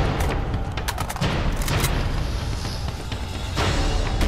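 Dense gunfire in the Uncharted 2 remastered video game, rapid overlapping shots and booming bursts filling the whole stretch, loud and continuous with no talk.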